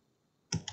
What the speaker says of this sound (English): So we'll go right mouse click to start the command over again.